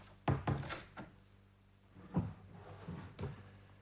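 A door closes in a Norwegian radio play, a short run of wooden thuds and knocks followed by a few softer clunks, close by and without voices.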